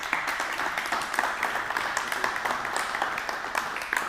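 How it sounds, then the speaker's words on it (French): Applause for a guest at a French entrepreneurs' club gathering: a small audience claps steadily for about four seconds, an even, moderately loud patter of many hands with no voices on top. "Et maintenant, on peut applaudir Sandrine."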